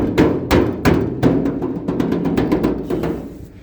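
The hood of a 1960 Ford Starliner is banged repeatedly, sharp metallic thumps with a loose rattle, about a dozen uneven hits close by, loud at first and then lighter and quicker.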